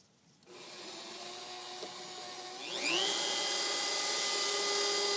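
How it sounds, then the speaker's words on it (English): A rotary tool with a regular sandpaper attachment sands a freehand-carved wooden pipe, giving a steady close whine that rises in pitch partway through as the speed increases, loud and alone. "And I'm using just a regular sandpaper attachment."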